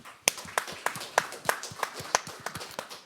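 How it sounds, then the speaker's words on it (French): A handful of scattered, separate claps from a small audience at a deep-tech event in Paris, fairly quiet and spaced out over a few seconds. "On peut l'applaudir, s'il vous plaît."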